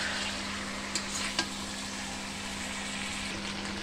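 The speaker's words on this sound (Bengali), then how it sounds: "তো এখানে চিকেনটা বেশ কষানো হচ্ছে" Two kilos of chicken stir-fried in a large pot for a meat dish for five to seven people, giving a steady, continuous sizzle with a couple of faint scrapes near the start.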